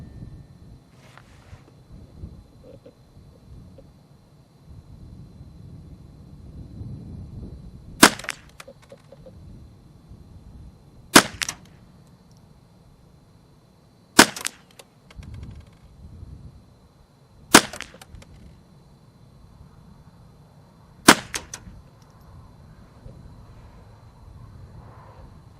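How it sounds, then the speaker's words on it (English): Five sharp, loud cracks from a Marlin Model 60 .22 rifle firing CCI standard velocity rounds, spaced about three seconds apart outdoors, with steady wind rumbling underneath and no talking. "10 shots, 50 yards, about 7/8 of an inch."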